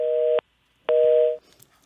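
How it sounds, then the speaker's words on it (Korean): A telephone busy signal sounds when a phone interview drops on a Korean current-affairs broadcast: two loud, steady beeps about half a second each, separated by a short silence, then faint background noise. "지금 우현식 의원과 전화 인터뷰를 하고 있는데 잠시 연결이 좀 끊어진 것 같습니다."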